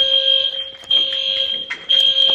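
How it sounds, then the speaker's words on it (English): A household fire alarm rings at midnight, giving a loud, piercing electronic tone that holds steady and breaks off briefly twice before resuming, close and with no voices. "the freaking fire alarm is loud"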